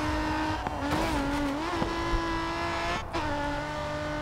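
A race car in GRID 2 skids with barely any grip, its engine whine and tyre squeal sustained and close, shifting pitch through short slides and a brief drop near the end, with no voices.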